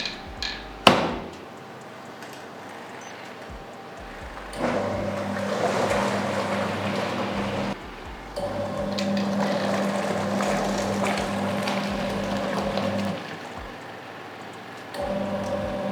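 A small Bennett Read Sponono 7KG twin-tub washing machine on its wash cycle with sheets and pillowcases: after a sharp knock, a steady motor hum and churning water run in long stretches, stopping briefly and then starting again.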